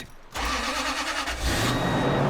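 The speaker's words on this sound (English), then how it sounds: "At least the truck still starts." A pickup truck engine cranks and catches after a short quiet moment, then settles into a steady rumbling idle, close and loud, with no talking.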